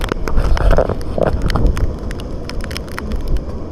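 Strong gusts of Typhoon Carina roar and whistle through Chiayi, Taiwan, a loud, steady buffeting rush with heavy low rumble on the microphone, swelling early and then holding.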